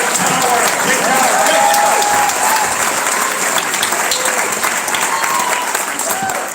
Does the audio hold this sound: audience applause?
yes